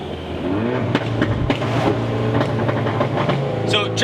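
Car pulling away on a test drive, engine note rising steadily as it accelerates, with clicks and rattles inside the cabin and a voice speaking briefly over it.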